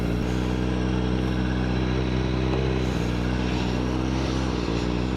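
A used motorcycle, not street legal, rides in first gear with its engine droning loud and steady close by, a constant low rumble that barely changes pitch.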